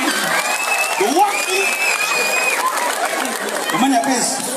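Steady applause from a crowd, a continuous wash of clapping with voices calling and chattering over it.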